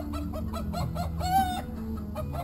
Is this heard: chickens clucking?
yes